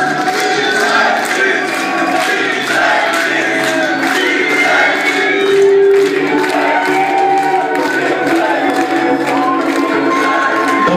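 Crowd at a club event, a box night in Opalenica in 2013, cheering and chanting together with rapid clapping, a dense continuous roar that swells in the middle and holds steady throughout.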